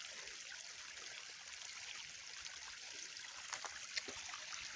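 Creek water flowing in woodland in Kentucky, a soft steady trickle and hiss with a few small splashes, quiet and continuous with no one talking.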